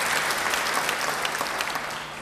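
A church congregation claps steadily and warmly, the applause holding strong before tapering slightly at the end.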